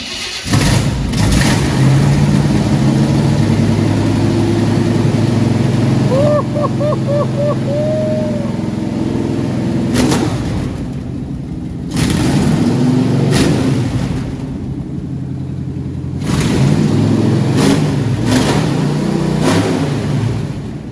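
An old car's V8 with a four-barrel carburetor, sat unused for 30 years, idles roughly and revs loudly in repeated bursts, with a high whine at times and someone speaking briefly.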